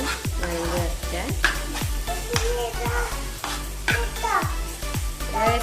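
Chopped onions sauté in a pan for a Kerala-style egg roast, a steady sizzle punctuated by regular scraping strokes of a spatula roughly every half second, close and clear.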